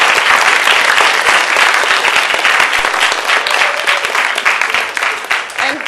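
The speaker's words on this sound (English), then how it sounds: "let's give a big round of applause for all the people who made this possible" Loud, dense applause from a crowd at a Rice University engineering event, sustained for several seconds with distinct sharp claps, thinning slightly toward the end.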